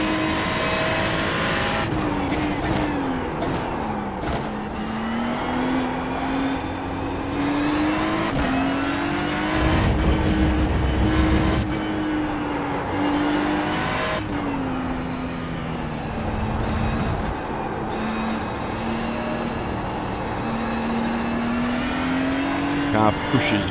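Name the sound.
race car engine, Ferrari GT3 in iRacing video game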